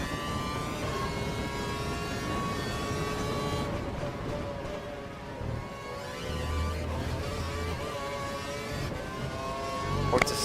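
Formula 1 cars race at Monza in F1 2012, with a steady high-pitched engine whine that rises and falls through gear changes, loud and continuous near the listener.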